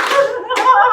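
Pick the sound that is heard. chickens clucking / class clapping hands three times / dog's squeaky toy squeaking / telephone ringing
class clapping hands three times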